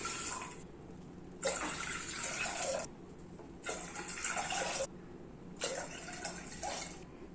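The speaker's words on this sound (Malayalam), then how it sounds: "നമുക്ക് 4 കപ്പ് വെള്ളം അതിലേക്ക് ചേർത്ത് കൊടുക്കാം." Water poured from a cup into a pressure cooker for grape juice, three separate splashing pours with short quiet gaps between them, close and moderately loud, with no talking.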